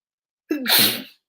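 A single sharp sneeze, close and loud, with a quick inhale just before and silence on either side.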